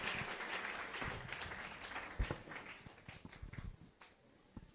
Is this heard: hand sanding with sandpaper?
no